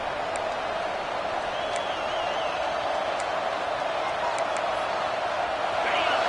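Stadium crowd in a football video game, a dense steady roar of cheering with occasional whistles, holding constant and swelling slightly near the end.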